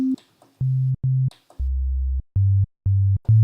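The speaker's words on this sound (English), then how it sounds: "it's a simple sine wave" Pure sine tones from the Sytrus synthesizer in FL Studio play a short sequence of sustained notes at different pitches, clean and loud with brief gaps between them.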